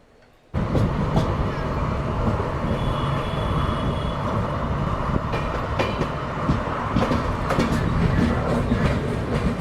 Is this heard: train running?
yes